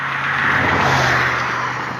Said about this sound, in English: More cars zipping by here.